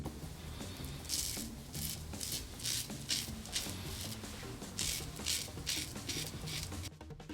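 Safety razor scraping under the chin, a soft rhythmic rasping in repeated short strokes, close and steady with no talking.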